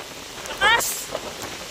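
Light rain patters steadily on a surface, with a brief burst of louder noise partway through.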